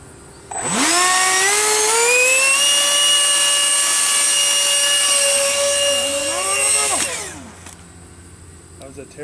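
A small electric RC Harrier Alpha model plane whines loudly overhead, its motor pitch rising sharply at launch, holding steady for several seconds, then dropping away as the throttle cuts; a voice briefly in the background.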